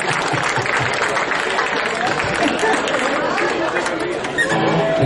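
A festival crowd at a local live music event applauds the band, loud and continuous clapping mixed with heavy chatter and talking voices throughout.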